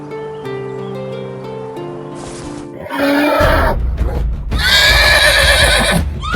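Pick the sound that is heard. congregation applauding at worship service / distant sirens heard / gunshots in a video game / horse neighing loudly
horse neighing loudly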